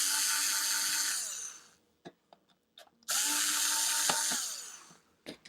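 GoGonova cordless screwdriver with a small Phillips bit on low torque, whirring steadily in two runs of about one and a half seconds each, close and fairly loud, each ending in a winding-down pitch drop, with small clicks and handling taps between them.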